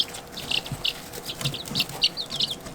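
Newly hatched chick in a box giving repeated high, thin peeps in short bursts, fairly close, over a faint background hum.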